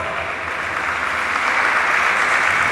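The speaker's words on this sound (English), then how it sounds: "please give yourself a round of applause." Steady crowd applause at a university engineering department's 50th anniversary event, loud and continuous, with dense clapping that swells slightly toward the end and no voices standing out.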